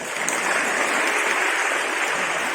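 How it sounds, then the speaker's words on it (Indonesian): A crowd claps steadily for about two and a half seconds, a dense, even wash of applause at a santri students' muhadoroh performance event at an Islamic boarding school, with no voices over it. "Tepuk tangan."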